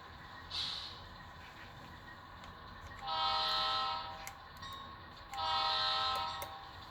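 A model train locomotive reverses on a switching layout, its motor humming, giving two long horn or whistle blasts after a brief toot; no one speaks.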